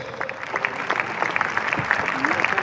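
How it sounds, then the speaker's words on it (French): A crowd at a funeral service applauds in a steady, dense patter, while a voice speaks over the clapping. "Acclame très fort"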